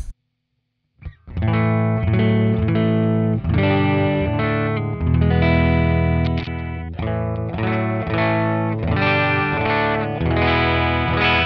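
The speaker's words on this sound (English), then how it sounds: "So it goes from sounding like a direct guitar to sounding like a guitar and an amp." Electric guitar played on the neck pickup through an Amoon pedal into a NUX Cerberus with cab simulation, ringing chords with chorus and distortion after a brief silence, loud and sustained with no talking.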